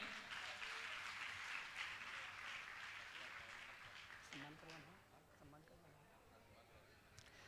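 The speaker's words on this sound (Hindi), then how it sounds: "जोरदार ताली बजाकर इनका सम्मान करें" Applause from a crowd at a Jain religious gathering, honouring a couple called to the stage, dense and steady at first, then thinning and fading as voices and faint music come through underneath.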